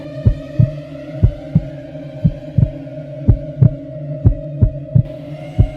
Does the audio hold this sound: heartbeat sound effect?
yes